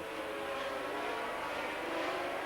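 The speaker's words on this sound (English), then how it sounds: "The red lights are about to go on, the revs are rising, and away they go." Formula One cars of 1981 roar away from the start of a race at Silverstone, a dense, continuous blend of engine noise heard at a distance with crowd-like wash.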